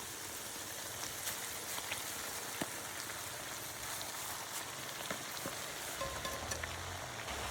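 Heaps of moringa leaves fry in hot oil for a fish nilatik dish, a dense, even crackling sizzle like rain, soft and continuous with scattered pops and no talk.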